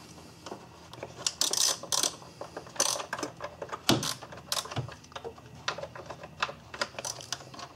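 Ratchet clicking out T30 bolts on the upper intake plenum of a Volkswagen Jetta GLX, a close, irregular run of sharp mechanical clicks and taps with no talk.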